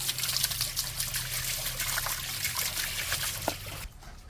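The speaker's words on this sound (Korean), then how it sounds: "물로 뿌리가 얼마 없기 때문에 굉장히 조심스럽게 살살살 털어주고 샤워시켜주고" Water trickles and splashes steadily as soil is gently rinsed from the sparse roots of a potted tree during repotting, a close, continuous dribbling that cuts off near the end.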